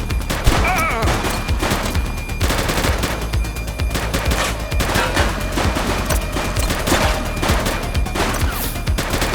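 Rapid, loud gunfire from a police shootout in The Precinct, with dense overlapping bursts of shots cracking almost continuously for about nine seconds.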